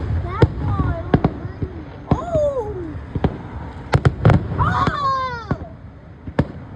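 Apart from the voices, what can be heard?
fireworks exploding at a festival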